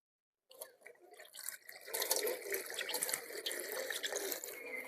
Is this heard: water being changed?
yes